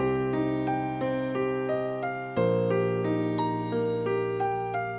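A synth melody processed with EQ, OTT compression and reverb plays a steady stepwise line of sustained notes over a held low chord that shifts midway, with no voices.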